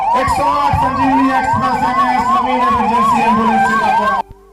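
A loud wailing siren from one of the newly flagged-off 108 Sanjeevani Express ambulances rises and falls in steady repeated sweeps, sounding close and continuous before cutting off abruptly at the end.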